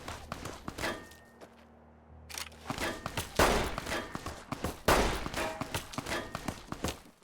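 Gunfire in Fallout: New Vegas: sharp shots crack in irregular bursts with thuds and scuffling between them, close and punchy, with a brief lull before the firing resumes.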